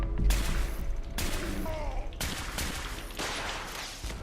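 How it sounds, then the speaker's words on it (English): Super mutants fire missile launchers in the video game Fallout 4, producing several sharp, loud blasts that cut in abruptly and decay into noisy rumbles, with a brief voice heard between them. "that's just those super mutants have missile launchers"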